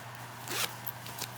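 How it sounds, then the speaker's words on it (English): A zipper on the interior pocket of a fabric travel tote bag is pulled open in a couple of quick, close rasping strokes, alone with no talking. "the inside of the bag has this lovely zipper pocket in it, and when you open it, it has plenty of room in that pocket"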